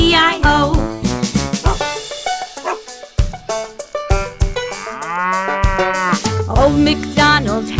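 A cartoonish cow moos several times over a bright children's farm song with bouncy instruments, the lowing loud and prominent in the mix.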